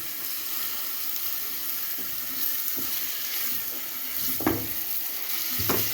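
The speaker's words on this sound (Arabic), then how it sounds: "يعني مش هحمر البصل، انا بس هشوح بس البصل" Onions and meat sauté in a pan, giving a steady sizzle with a few soft knocks of stirring toward the end, close and moderately quiet.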